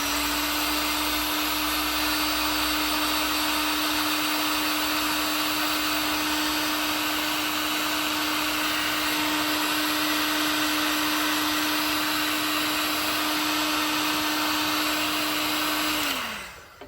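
Steady loud whirring blast of a heat gun shrinking heat shrink tubing onto car wiring on a VN Commodore, a constant fan and heater drone running unbroken for about sixteen seconds before winding down at the end.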